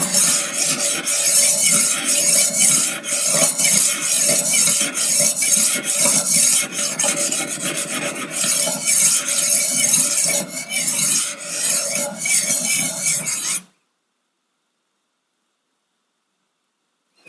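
Knife blade worked on a Wicked Edge Go guided sharpener, a rapid run of rasping abrasive strokes close up for about fourteen seconds before cutting off into silence.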